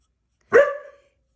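One sharp, loud bark from a dog rings out close by, short and clean against silence.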